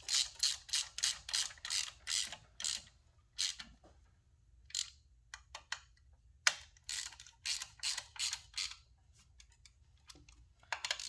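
Bolts are tightened with a ratchet on a motorcycle's Enduralast PMA charging system assembly, quick bursts of crisp clicking that stop and start repeatedly, close and fairly quiet.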